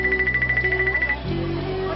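A phone rings with a repeating electronic ringtone, loud and close, pulsing in a steady rhythm before shifting to a lower sustained tone.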